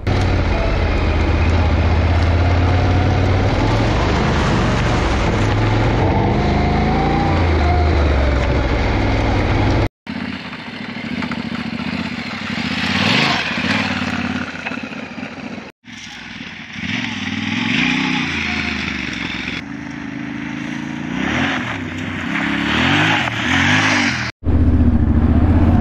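A 2022 Yamaha Tenere 700 motorcycle runs on a road, its engine loud and close with a steady drone, rising and falling revs, and rushing wind noise across several cuts.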